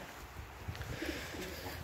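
Pigeons coo softly at a pigeon loft, a few low, muffled calls heard faintly against a quiet outdoor background.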